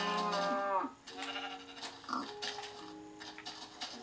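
Sheep and a pig in Minecraft on Xbox bleat and oink in a quick series of short calls, fairly close and clear, with no talking over them.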